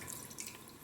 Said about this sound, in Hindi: कुकर में हम थोड़ा पानी डालेंगे